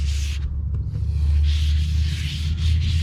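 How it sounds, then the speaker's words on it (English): Continuous low rumbling hum of a power sander grinding primer off an RV surface, with rough scraping texture rising and falling, no talking. "you'll see it start sanding the surface of that"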